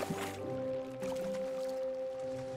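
In the Sea of Thieves video game on PS5, a bucket scoops water from the bottom of a ship's deck, a short wet slosh and splash up front followed by soft dripping and gurgling under steady game ambience.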